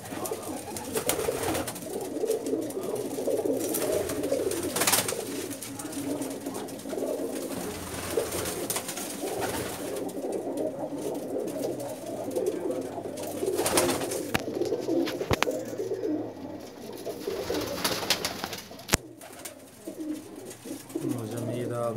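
Pakistani pigeons coo repeatedly on a rooftop in Jeddah, soft low throaty calls close by, while people talk throughout.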